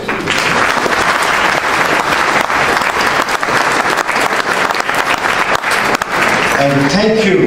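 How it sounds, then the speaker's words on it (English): Loud, sustained applause from the audience at an annual dinner of a British Sikh association, with a crowd of diners clapping densely before a voice begins speaking at the end. "Please give them a big round of applause."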